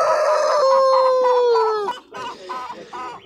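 A rooster at a market fair crows loudly and close by, one long call, followed by a few short clucking notes.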